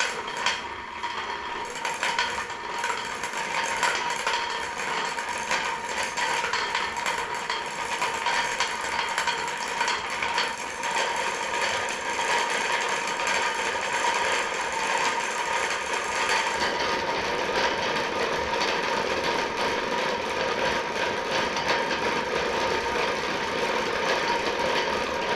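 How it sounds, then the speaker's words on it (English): Fishing line winds onto a reel under finger tension, a steady close mechanical whirring and ticking that runs continuously for the whole stretch, with no talk. "I'm just running this line through my fingers to try to keep some tension."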